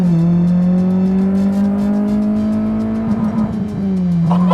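A car with a K-Series engine accelerates hard, its loud, close engine note climbing steadily in pitch with no one talking, then briefly stumbling and dropping near the end.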